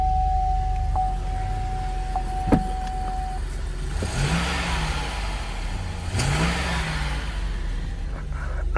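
A 2014 Chevy Caprice police car with a 6-liter V8 revs up twice, each throttle blip rising and falling clearly, with a whirring electric window and a sharp click early on, close and loud with no talk.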